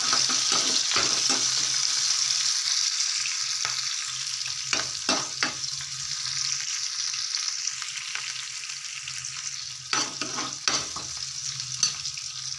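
Drumstick curry with onions sizzles in a pan with a steady hiss, while a spoon stirs it in scattered scrapes and knocks, close and fairly loud, with no talking.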